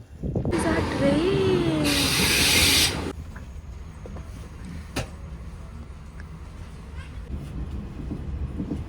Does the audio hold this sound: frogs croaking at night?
no